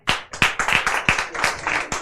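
Clapping rings out at a children's day celebration where students receive medals and prizes: a few close, sharp, uneven claps with distinct individual slaps, fairly loud and without talk.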